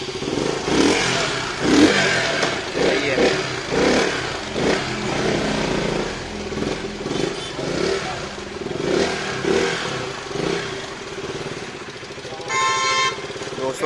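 A KTM motorcycle engine, just fitted with a new clutch plate, revs repeatedly in rising and falling pulses, loud and close in a workshop, with a brief horn-like tone near the end.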